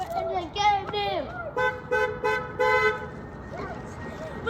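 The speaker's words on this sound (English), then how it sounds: "Oh, we honked! We got one!" Several short car horn toots sound in quick succession from passing road traffic, clear and fairly close, with children's excited voices talking between and over them.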